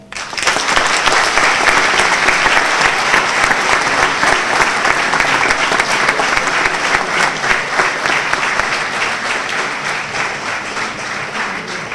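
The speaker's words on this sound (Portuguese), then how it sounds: "Para ti, uma salva de palmas." Audience at a Socialist Party candidacy presentation in Vila Nova da Barquinha breaks into loud sustained applause, dense clapping throughout that slowly tapers near the end, with no talk.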